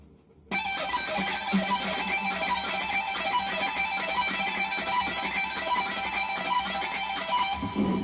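An electric guitar lick from Crossroads Duel, played at full speed after a brief quiet start, with a fast run of bright picked notes and a sweep, sustained and fairly loud with no talking.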